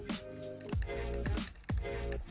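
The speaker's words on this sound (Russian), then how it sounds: "И хорошо размешаем" A spoon stirring ground cinnamon into hot water at about 60-70°C in a glass: three or four quiet, close swirling strokes with faint ringing clinks against the glass.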